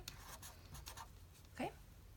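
Pen on paper jotting a short note: faint, quick scratchy strokes with a slightly firmer stroke near the end, all close and soft over low room noise.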